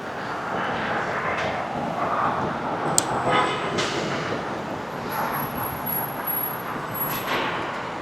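A tram runs along a tram line in Guangzhou, giving a steady broad rumble with faint high squealing tones now and then. No one speaks.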